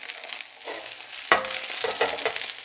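Zucchini and eggplant sear in a hot wok with a steady hiss and sizzle, broken by a sharp clack and scraping bursts as the vegetables are stirred, close and loud with no voices.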